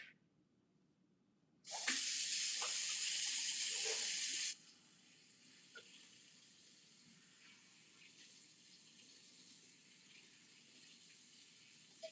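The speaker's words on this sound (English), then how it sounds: "let me wash my hands really quick" A bathroom tap is turned on and runs in a steady, bright hiss for about three seconds while hands are washed under it. A quieter room follows, broken by a few faint clicks.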